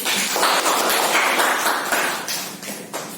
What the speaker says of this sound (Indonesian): Tepuk tangan untuk Ois.